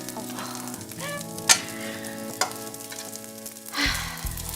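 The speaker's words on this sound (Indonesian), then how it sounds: "lagi praktek bikin nasi goreng spesial" Special nasi goreng fries in a pan with a steady, even sizzle, broken by a few sharp scrapes and clatters as the rice is stirred and tossed, close and without talk.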